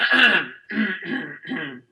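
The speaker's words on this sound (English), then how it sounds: "he'll clear his throat" Someone clears their throat in four quick, rasping bursts with short pauses between them, close and fairly loud, with no talking.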